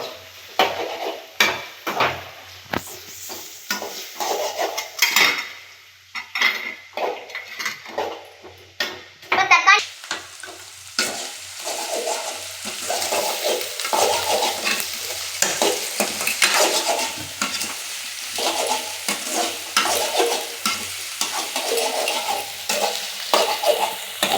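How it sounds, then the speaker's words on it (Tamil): Chicken gravy with cinnamon being stirred in a sizzling pan: repeated scraping and knocking of a spoon against the metal, irregular at first, then over a steady, loud frying hiss. "இப்போ நல்லா கிண்டிக்கலாம்"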